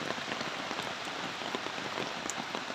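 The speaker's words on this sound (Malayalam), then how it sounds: "മഴ നനയണ്ടാ, മഴ നനയണ്ട." Steady rain patters densely on surfaces beside a stream during fishing, a constant, even hiss with no pauses and no voices.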